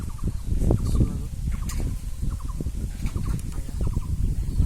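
Chattering fowl calls from a flock of chickens, constant clucking and gobbling over a dense low rumble of poultry and pig farm noise.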